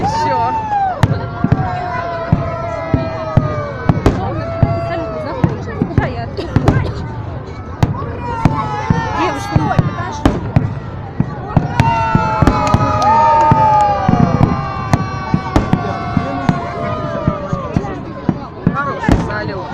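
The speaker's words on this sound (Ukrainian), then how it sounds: "Хороший салют." A fireworks salute display sends out repeated sharp bangs and crackling bursts at an irregular pace, loud and close. Voices and cheering run underneath the explosions.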